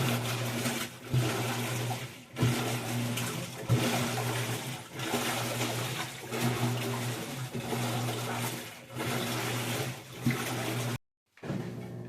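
A Whirlpool WTW4816FW3 top-load washing machine, a 2023–2025 model, agitates hard during its wash cycle, giving steady rhythmic churning and sloshing water with a low motor hum, pulsing in repeated strokes about every second and a half before stopping abruptly.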